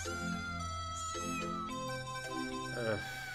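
Kitten in a tree mewing repeatedly in a video game, Kendo Crush; several plaintive, wavering meows in close succession over faint background music.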